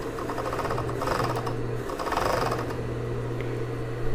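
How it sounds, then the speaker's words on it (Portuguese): A sewing machine stitches a knit fabric dress seam in steady bursts of rapid mechanical whirring, pausing briefly before running on, close and clear. "Então, eu seguro aqui e vou costurar."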